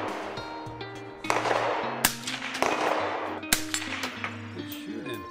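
Pistol shots fired at a range with a Trijicon SRO reflex optic mounted, several sharp cracks a second or so apart, fairly close, with ringing tones and clinking between shots.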